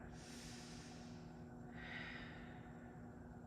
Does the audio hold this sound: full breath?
yes